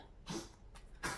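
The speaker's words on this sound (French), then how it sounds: "Vous entendez du bruit, c'est mon chien qui tousse." Two short, rough coughing bursts from a dog, close by, separated by a brief pause.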